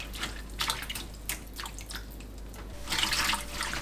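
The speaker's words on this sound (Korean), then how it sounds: "양배추를 헹궈주세요." Cabbage being rinsed in water, with splashing and dripping in a sink or bowl, a brief close louder splash near the end, and no talk.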